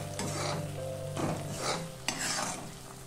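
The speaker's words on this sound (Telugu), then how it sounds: "మీడియం ఫ్లేమ్ మీద ఈ మసాలాని బాగా వేపుకోవాలి" Masala for Afghani egg curry sizzles steadily in oil over a medium flame while a spoon scrapes and stirs it in the pan with a few sharp clinks.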